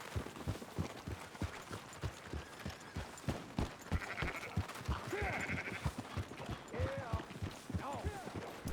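Sheep bleat in a farm scene from the video game Red Dead Redemption 2, several wavering calls rising through a busy mix of hoof clops and footsteps, with people talking over them.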